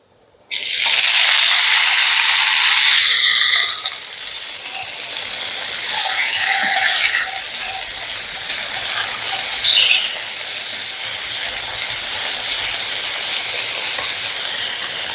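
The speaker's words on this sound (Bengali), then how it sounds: "শুকনো লঙ্কাটা ভাজা ভাজা হয়ে গেছে এবারে এখানে আমি দিয়ে দিচ্ছি প্রথমে তিনটে ছোট সাইজের টমেটো" Three small sliced tomatoes hit hot oil with fried dried red chillies for a chutney. A loud burst of sizzling erupts, then settles into a steady frying hiss with occasional flare-ups.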